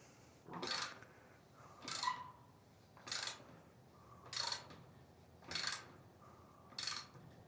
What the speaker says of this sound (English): Ratchet's kind of wonky.